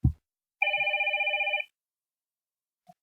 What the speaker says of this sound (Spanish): si suena un teléfono, lo que tenemos que hacer es atenderlo